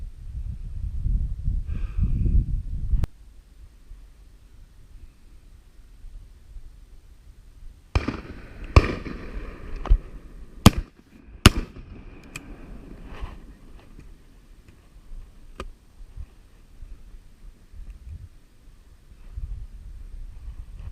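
Shotguns fire at pheasants during an end-of-season shoot, several sharp bangs in an irregular cluster across the middle, some near and loud, others fainter, set against quiet outdoor ambience.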